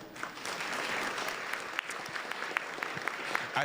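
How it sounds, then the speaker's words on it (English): Audience applause at a Columbus Metropolitan Club panel event, a steady dense wash of many hands clapping throughout, moderately loud in a room. "yourselves a round of applause?"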